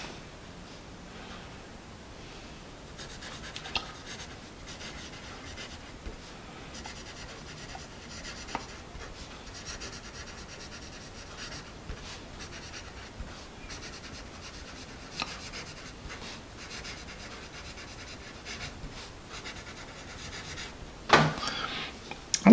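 A Dixon Ticonderoga 2HB pencil scratching steadily across paper, a soft continuous close-up rasp with small ticks and a louder scrape near the end.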